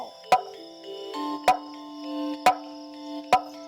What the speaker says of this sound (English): Later, you can also sound my kulkul.